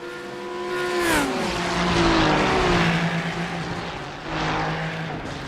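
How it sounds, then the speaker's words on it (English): A Porsche GT3 race car in a racing video game, engine roaring loudly and close as it revs, with pitch dropping through shifts and a broad noisy whine while the rear slides, then surging again. "See Zinn getting the rear end of that Porsche loose."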